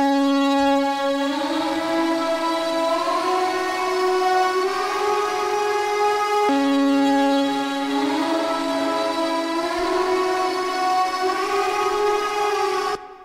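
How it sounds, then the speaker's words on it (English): A dry automated synth lead preset from a sound kit, played in FL Studio, carries a sustained bright harmonic melody whose pitch slides and bends between notes, loud and alone with no voices for the full length. "This sound is super crazy. It's a lead from the kit."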